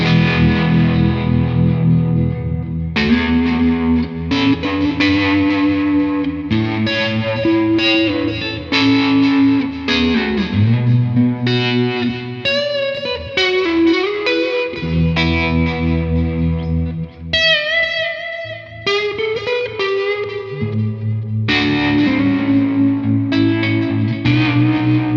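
Electric guitar fitted with gold foil pickups played through effects, chorus-tinged chords and melodic single notes with light echo, continuous and close for the whole stretch without any voices.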